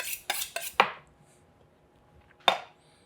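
Metal utensils on a plate cutting a slice of tender pork belly: a quick run of four sharp clinks and taps, a pause, then one more clear clatter, close up with no talking.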